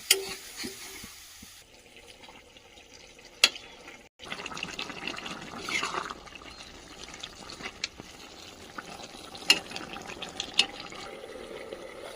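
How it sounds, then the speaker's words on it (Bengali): Water poured generously into a pan of mixed vegetables for a cauliflower-stem chorchori, a low continuous splashing and bubbling over several seconds, punctuated by a few sharp clinks of a utensil. "পরিমাণ মতো জলটা এখন একটু বেশি দিলাম"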